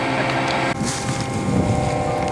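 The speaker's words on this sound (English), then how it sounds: "we got an 8-row combine here, John Deere, of course" John Deere 8-row combine harvester running in a cornfield, its steady engine and threshing drone loud and close, with wind buffeting the microphone and a brief dip near the start.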